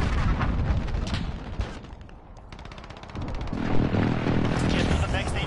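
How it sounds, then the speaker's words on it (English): In Call of Duty: Modern Warfare, an enemy precision airstrike hits amid constant gunfire, with heavy booms and crackling bursts close by and a brief lull in the middle. A voice speaks over the noise. "Enemy precision airstrike"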